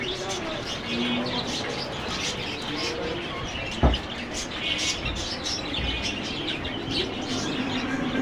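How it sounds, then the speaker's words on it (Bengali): A pair of black Sirazi pigeons gives soft cooing amid scattered chirps from other birds, with a brief flap or knock midway and some talk in the background. "এখানে এক জোড়া আছে কালো সিরাজি খুব ভালো মানে সিরাজি জোড়া"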